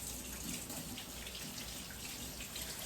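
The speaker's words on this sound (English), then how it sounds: "Give my hands a good wash." A kitchen tap runs steadily while hands are washed under it, giving an even, fairly quiet rushing splash with no break and no voices.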